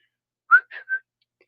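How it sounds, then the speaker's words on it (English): A person whistles three short notes, the first two quick and separate and the third slightly longer and steady, clear against silence. "Yes, I can whistle."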